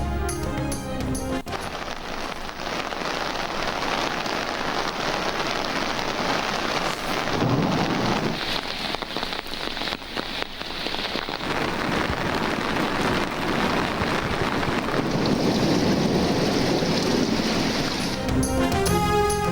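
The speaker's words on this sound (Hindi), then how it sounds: "मुजफ्फराबाद, अशमकाम समेत कई इलाकों में बारिश।" Heavy rain pours in news footage from Muzaffarabad and nearby areas, a loud dense hiss with deep rolling rumbles of thunder swelling through the middle, continuous and close.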